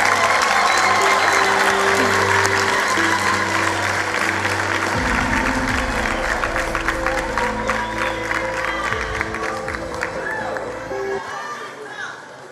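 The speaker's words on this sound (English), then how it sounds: "Another round of applause." Sustained applause from a large audience at a matric results announcement ceremony, dense and steady throughout, with crowd voices and music running underneath, gradually easing toward the end.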